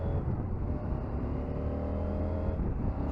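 A 2022 CFMOTO 800MT motorcycle pulls steadily in second gear, its engine a close, continuous low rumble with a rising tonal drone under wind noise, no talking over it.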